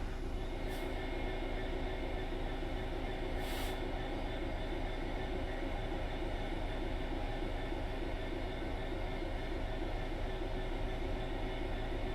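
Train running in the video game Train Sim World 5, a continuous low steady rumble from onboard throughout, with a couple of brief hissing bursts, no talk.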